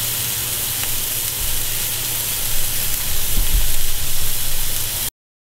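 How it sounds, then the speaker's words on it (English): A hamburger patty sizzles steadily in a hot pan, a loud, continuous broadband frying hiss that swells slightly toward the end before cutting off abruptly. "all I'm going to do is cook this hamburger patty up"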